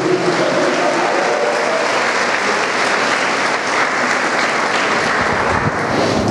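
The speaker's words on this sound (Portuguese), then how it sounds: "Dê um aplauso ao Senhor" A church congregation applauding loudly and steadily in praise, a dense, sustained wash of clapping that fills the room for several seconds with no pause.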